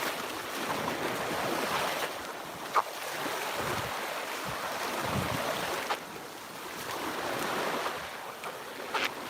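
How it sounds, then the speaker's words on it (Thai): Sea waves at a beach, a soft, steady wash of surf rising and falling with light wind noise on the microphone, fairly quiet and without voices. "นานๆทีจะได้มาเล่นทะเลคือว่าเห็นทะเลก็โอเคแล้วล่ะ"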